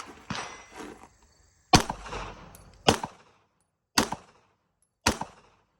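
Handgun shots fired at a target, a series of four sharp loud reports spaced about a second apart, preceded by softer handling noise.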